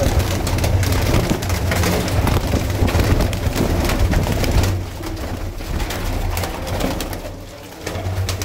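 Teddy pigeons coo continuously in low, throaty rolls. The cooing is close and loud over a steady background hiss, and several birds overlap.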